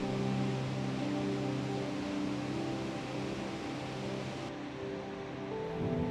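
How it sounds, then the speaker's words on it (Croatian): Dettifoss waterfall in Iceland roars as a steady, loud, broadband wash of falling water, continuous and unbroken throughout with no voices. "Već izdaleka čujete glasni huk i puni strahopoštovanja stanete uz njegov rub."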